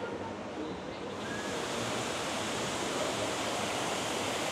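Waterfalls at a water park on Paradise Island rush in a steady, dense roar of falling water that continues unbroken and fairly loud throughout.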